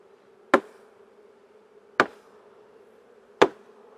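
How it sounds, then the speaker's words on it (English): Honey bees from a new package knocked off a hive frame: three sharp knocks roughly a second and a half apart, each over a steady, close buzzing hum, with no talking. "Now let's knock these bees off."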